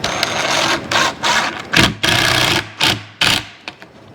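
A power drill drives pocket hole screws into a plywood Shaker-style bathroom vanity cabinet, with several short loud whirring bursts separated by pauses, close up and without talk.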